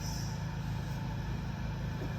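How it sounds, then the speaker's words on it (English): Room fans produce a steady low mechanical hum and whir throughout, faint and continuous with no pauses. "Sorry about the noise on the background, those are the fans running."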